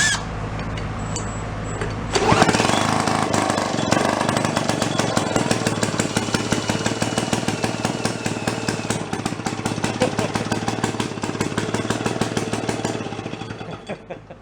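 An old generator engine salvaged from a town dump fires up after a moment of quiet, then runs loud and close with a rough, rapid mechanical chatter that holds steady before easing slightly.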